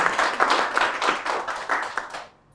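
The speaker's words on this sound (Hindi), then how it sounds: "एक बार प्रबुद्ध भाई के लिए तालियां हो जाए" A small studio audience on a talk show claps briefly for a guest poet. The clapping is close and lively in quick, uneven bursts, then stops abruptly after about two seconds.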